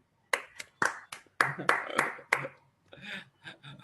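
A few hands clapping in irregular bursts, sharp close claps scattered over a few seconds with no crowd applause.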